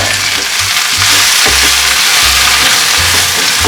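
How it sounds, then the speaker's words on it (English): Spinach sautés in a frying pan with a loud, continuous sizzle, broken by soft low knocks and bumps as the leaves are moved about, with no talking. "fry for about 2 minutes, and there goes in our spinach"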